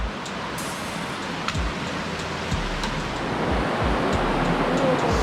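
Creek water pouring out of a cave mouth in the Ozark National Forest gives a steady, broadband rushing wash, close and continuous, with low rumbling swells building slightly louder toward the end.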